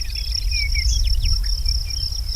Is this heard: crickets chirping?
yes